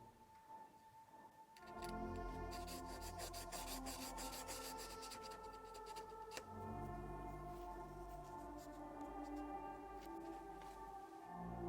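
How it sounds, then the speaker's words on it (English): Small metal screws and hinges are rubbed back and forth on 320-grit sandpaper in quick, rasping strokes, heard over a steady musical backing. "weathering the screws and hinges by first sanding them on some 320 sandpaper"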